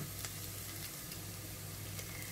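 Onions frying in a pan for lasagne bolognaise, a faint, steady sizzle with light crackles, heard close up and alone.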